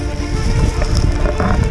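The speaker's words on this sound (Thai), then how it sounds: "คือฝนตกหนักครับ" Heavy rain drums steadily on a large borrowed tent that leaks during a storm on a mountain trip in Myanmar, a dense continuous patter close around, with faint wind.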